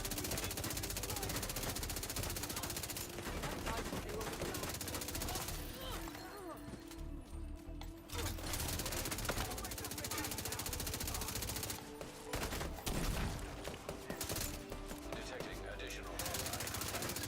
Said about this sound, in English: Kept him from shooting at us